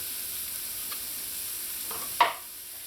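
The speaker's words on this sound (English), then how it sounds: "you're going to add in your finely chopped onions, pepper, garlic, and bandanya." Chopped onions, pepper, garlic and bandanya go into hot oil for sautéing while cooking Trini aloo pies, giving a steady soft sizzle with a brief louder hiss as the ingredients hit the pan near the end.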